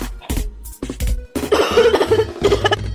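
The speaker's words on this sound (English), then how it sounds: "I have a cough." Several short, harsh coughs in quick bursts, close by, followed by rougher, noisier coughing with some voiced strain.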